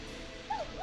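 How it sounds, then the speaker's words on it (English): A dog gives a single short whimpering yelp in the video game Killer Frequency, a brief thin cry rising over a low steady background hum. "It's my neighbor's dog."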